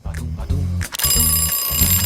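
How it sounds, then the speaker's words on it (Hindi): An alarm clock rings in a run of loud, evenly spaced electronic beeping bursts, with brief gaps between them and nothing else heard. "और यह क्या है? अलार्म?"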